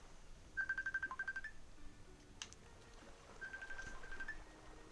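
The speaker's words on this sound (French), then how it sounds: "Oh, on m'appelle sur le téléphone." A phone ringtone trills in two bursts of rapid repeated tones, faint and a little distant, with quiet room noise between them.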